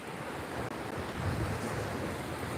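Ocean waves wash steadily onto a beach, a continuous broadband roar of surf with wind buffeting the microphone throughout, no voices present.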